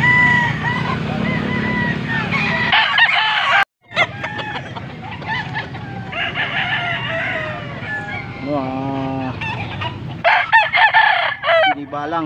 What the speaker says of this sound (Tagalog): Guys, marami ng mga manok.